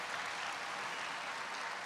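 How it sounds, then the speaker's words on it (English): Steady, faint applause from an audience greeting Florida Governor Ron DeSantis rises and falls evenly throughout, with no talk over it. "I guess that was what that big applause was."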